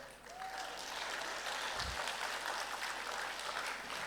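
At an education awards ceremony in Dubai, a large audience claps continuously, a steady, fairly soft wash of applause heard from a distance, with a brief low thump partway through.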